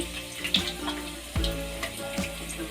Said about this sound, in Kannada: ಈಗ ಎಣ್ಣೆ ಕಾದಿದೆ ಎಣ್ಣೆಗೆ ಈರುಳ್ಳಿ